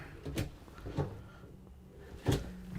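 Three soft wooden knocks and slides of a drawer being opened and shut inside a 2022 Renegade Verona 40VHB motorhome, spaced apart over a quiet room background.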